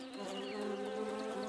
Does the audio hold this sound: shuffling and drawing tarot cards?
no